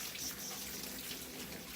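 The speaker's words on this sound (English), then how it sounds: "So we're just going to do a little rinse here." Tap water runs steadily over canned jackfruit in a sink strainer, a continuous close splashing rush with no talk.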